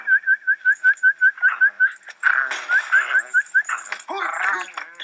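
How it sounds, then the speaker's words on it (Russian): A person whistles to call a dog with a quick run of a dozen short, evenly spaced chirps, then a second burst of warbling whistles, close and clear. "А подзывать надо Свистом."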